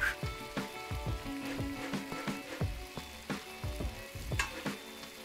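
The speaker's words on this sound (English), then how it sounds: "Well, this is frying." Salmon fillet sizzles and crackles in a pan in a cooking simulator video game, a steady moderate hiss broken by repeated sharp popping spatters.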